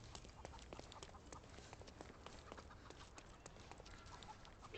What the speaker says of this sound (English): Somehow a chicken blocked my path.